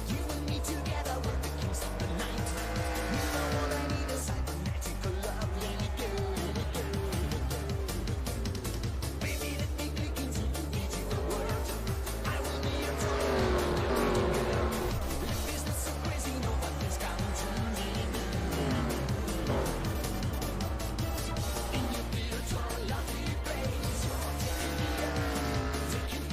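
Race cars in a NASCAR-style racing video game roar around the track in a continuous, dense engine drone, with overlapping revving and shifting pitches and no break.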